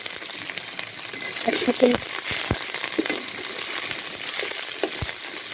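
Spices, bay leaves and potatoes sizzle and fry in a pan while a spoon stirs and scrapes, with a few sharp clinks against the metal; a voice speaks briefly over the steady hiss.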